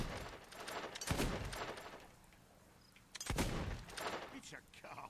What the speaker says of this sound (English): considering I'm shooting cardboard cutouts, that I'd be obliterating them with bullets.